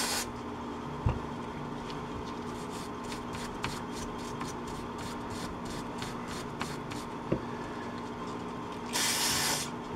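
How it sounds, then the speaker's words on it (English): Water hose spraying down a dirty string line mower, a steady close hiss broken by a few knocks and clatters, with the spray turning harsher and brighter near the end. "I guess we'll just hose it down and clean up the best we can."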